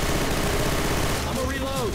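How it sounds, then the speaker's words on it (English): Uzi submachine gun fire in the video game Left 4 Dead 2, rapid continuous bursts of automatic shots layered with other game noise, fairly loud and close, with a voice talking over part of it. "I'll probably take this. This is an Uzi, by the way."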